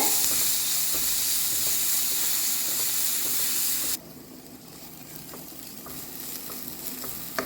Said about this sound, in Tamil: இது நல்லா கோல்டன் ப்ரௌன் கலர் வர்ற வரைக்கும் நல்லா வதக்கி விடுங்க.